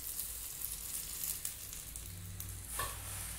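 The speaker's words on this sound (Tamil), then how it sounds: "லாஸ்ட்டாக கொஞ்சமாக கடுகு கருவேப்பிலை போட்டு தாளித்து மேலே ஊற்றிடலாம்" Mustard seeds and curry leaves sizzle in hot oil for tempering a creeper chutney, a steady close hiss running throughout with a brief sharper crackle near the end.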